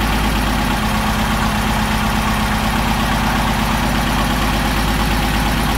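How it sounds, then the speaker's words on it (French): A car engine warms up at idle, close and loud, with a steady, unbroken rumble throughout and no voices. "Et vous faites chauffer un petit peu votre moteur."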